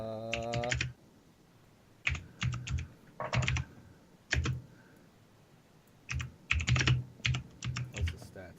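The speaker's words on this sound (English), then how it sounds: "Oh, I'm typing in there" Typing on a computer keyboard during a Dungeons and Dragons session, bursts of close, rapid key clicks separated by short pauses.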